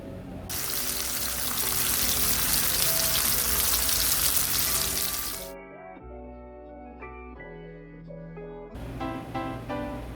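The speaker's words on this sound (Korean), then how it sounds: "고기를 구워서 양파에 올려 보도록 하겠습니다" Meat grilling in a pan for an onion sauce, giving off a loud, steady, bright sizzle that cuts off abruptly partway through, leaving clattering kitchen sounds and a low hum before a fainter sizzle resumes.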